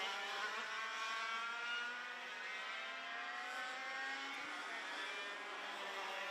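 100cc racing karts drive on a track at a European Grand Prix, their high-pitched engines buzzing continuously and overlapping with pitches that rise and fall, heard from a moderate distance.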